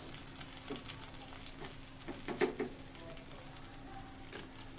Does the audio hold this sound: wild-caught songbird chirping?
no